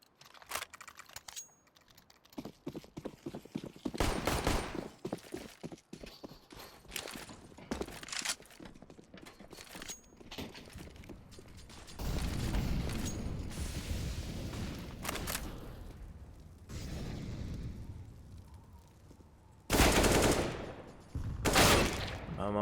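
Gunfire in a competitive first-person shooter match, with bursts of rapid shots and single cracks spread across the stretch, some louder and closer than others, mixed with quieter footsteps.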